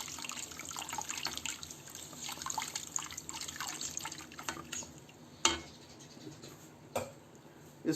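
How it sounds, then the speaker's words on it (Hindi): Water added to a pot of besan and water kadhi being cooked in a home kitchen, a soft trickling and dripping pour with a few sharper clinks near the end, fairly quiet. "थोड़ा सा हम इसमें पानी और ऐड कर देंगे।"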